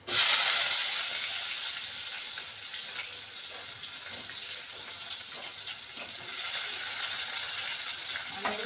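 Chopped onions drop into hot oil in a pan with a sharp initial sizzle, then settle into a steady, close hiss of frying that swells slightly toward the end.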